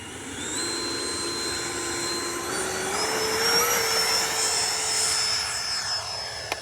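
A Freewing Ares 3D 8S 90mm electric ducted-fan RC jet in flight gives off a loud, high whine that climbs in pitch and then holds steady. The airy turbine-like tone runs continuously and is not under any talk.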